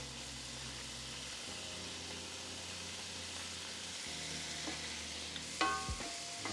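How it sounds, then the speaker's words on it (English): Onion and bell pepper sizzle steadily in a pan with Worcestershire sauce, a constant close frying hiss with a brief clink of a utensil near the end; no one speaks. "I'm gonna let the onion and bell pepper cook down for a few minutes"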